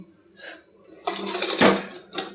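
A metal wok set down on a kitchen gas stove while preparing avalakki (flattened rice) tempering: a faint light clink, then a louder clattering metallic clank and scrape that rings briefly, with a second softer knock at the end.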